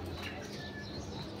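Pigeons coo faintly from a home loft, a soft low murmur of birds set against quiet background noise.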